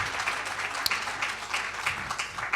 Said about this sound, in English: I think we need to give them a louder round of applause